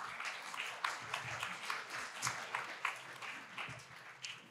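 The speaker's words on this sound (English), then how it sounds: "Let's give a welcoming round of applause to Celia." An audience at an impact investing conference applauds, with a dense, steady patter of many hands clapping at moderate volume throughout, heard from a distance with no speech over it.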